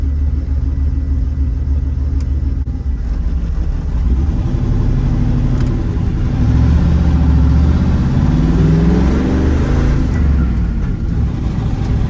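Dump truck engine revving hard with a deep, rumbling roar that rises and surges, steady and loud throughout, with an uneven stumble suggesting a misfire.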